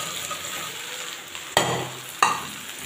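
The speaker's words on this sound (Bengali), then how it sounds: "আলুটা একটু ভেজে নিই, তারপরে ঝিঙেটা দেব" Potatoes fry in a pan while being stirred, giving a steady low sizzle with two sharp scraping stirs of the spatula near the end.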